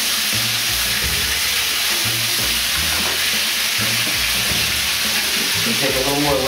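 Lemon chicken sizzling steadily in a hot pan after being flipped to its golden-brown side, a loud constant frying hiss with faint low murmurs underneath.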